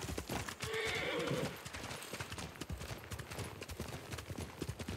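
Horses trotting with steady clip-clop hooves and a whinny near the start, in the Ghost of Tsushima video game as a samurai party sets off; a loud, close, busy hoof rhythm continues throughout with no talk.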